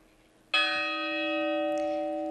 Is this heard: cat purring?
no